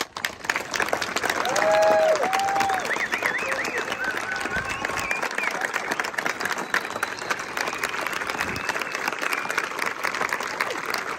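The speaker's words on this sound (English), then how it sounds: "another heartfelt round of applause" Sustained applause from a ceremony audience honoring service members and their families, dense clapping swelling early and then holding steady for several seconds with a few faint voices underneath.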